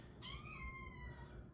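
A kitten meows in a long, drawn-out call with a falling pitch over steady low background rumble, ending with a brief higher squeak.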